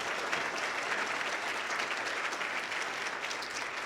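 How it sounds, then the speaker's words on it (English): A gala audience claps steadily, a dense wash of applause that holds at an even level throughout, with no voices rising above it. "give her a round of applause"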